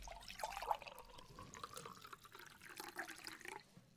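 Water pours from a jug into a glass in a quiet room, a faint, steady trickle lasting several seconds as the glass fills, with no voices.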